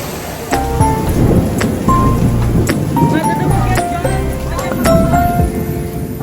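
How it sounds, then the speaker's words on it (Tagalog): Heavy rain pours steadily outdoors near NTU station in Taiwan, a dense loud hiss with scattered drips and splashes, while people talk over it. "May ulan, guys."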